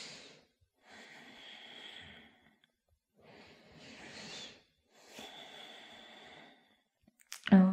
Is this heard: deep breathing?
yes